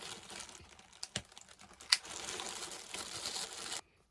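A clothing package is torn open by hand, with crinkly plastic rustling, a few sharp rips and crackles, and steady close handling that stops abruptly at the end.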